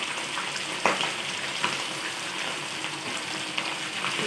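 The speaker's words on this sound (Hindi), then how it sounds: "ऑयल गर्म हो गया, इसमें हमने चिकन डाल दिया।" Chicken pieces fry in hot oil with a continuous crackling sizzle and a few brief sharper pops, close and steady from start to finish with no talk.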